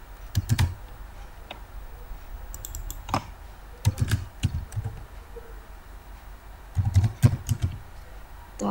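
Computer keyboard typing of ActionScript code in Adobe Animate, close and clear, with bursts of key clicks separated by short pauses and quiet stretches.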